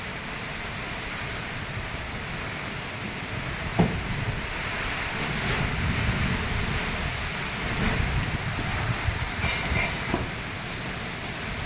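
Typhoon Nica's wind gusts and heavy rain lash a rural Philippine village, a dense, continuous roar of downpour with swelling gusts and a few sharp knocks and thumps, heard from fairly close.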